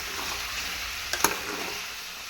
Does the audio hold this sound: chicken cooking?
yes